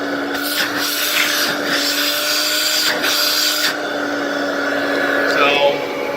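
A vintage 1960 Lady Kenmore Kenkart vacuum cleaner runs at full power with a steady, moderately loud motor whine and airflow hum, broken by a few rubbing scrapes, and a person speaks over it.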